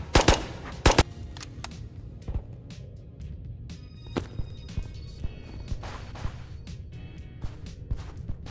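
Gunfire in the VR shooter Ghosts of Tabor: a few sharp, loud shots near the start, then scattered fainter pops and impacts over a low game background rumble.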